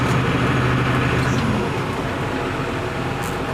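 A tractor engine runs at low revs while the machine creeps slowly after shifting from reverse into forward gear, a close, steady, rumbling drone that eases slightly in loudness partway through.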